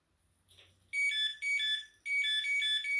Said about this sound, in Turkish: misine hareket ettiği an alarm çalmaya başlıyor